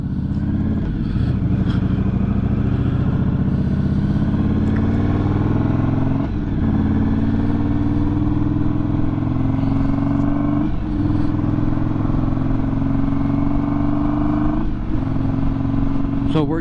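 A motorcycle engine drones steadily while the bike is ridden on the road for a riding dyno test, holding a strong, even hum that rises slowly in pitch between a few brief shifts.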